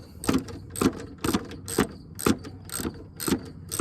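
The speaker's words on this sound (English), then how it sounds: "Just get the fucking socket on there." A socket wrench ratchets onto a bolt while a front bumper is refitted on a Subaru Crosstrek, giving close, regular clicking strokes about twice a second with no talking.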